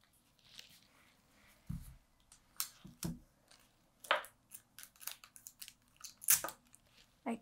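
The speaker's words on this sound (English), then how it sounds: "All you have to do is cut along the waistline." Scissors cut along the waistline of a paper sewing pattern, giving close, irregular crisp snips and rustles of paper spread over several seconds, with no one talking.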